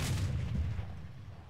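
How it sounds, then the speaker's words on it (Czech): Tank cannon fire booms in the video game Panzer War, a deep, heavy rumble that is loud at first and slowly fades over about a second and a half, with no voices. "A slyšíte? Výstřely, ty jsou krásný."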